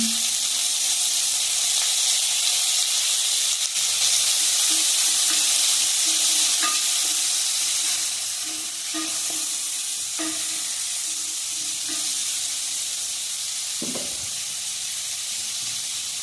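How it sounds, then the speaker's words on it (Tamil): Onions fry in oil for an egg curry, giving a loud, steady, close sizzle with faint stirring knocks and scrapes of a utensil in the pan throughout. "இப்போ நம்ம வெங்காயம் ஆட் பண்ண போகிறோம். எல்லா வெங்காயத்தையும் ஆட் பண்ணிக்கலாம்."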